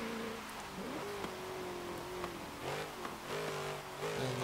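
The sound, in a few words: 2010 Ford Crown Victoria Police Interceptor engine revving, Forza video game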